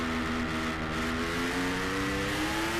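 Racing motorcycles in the 600 Formula Pacific class at an AFM 2013 round crest a hill, with a continuous high engine whine that rises in pitch, loud and close.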